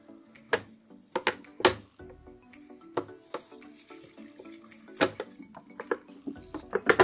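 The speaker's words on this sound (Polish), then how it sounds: "Tak samo dajemy tu michę z wodą. Od razu w sumie mogę to napełnić" Water pours and drips into a small bowl inside a spider terrarium, with scattered close clinks and splashes at an uneven rhythm, fairly faint.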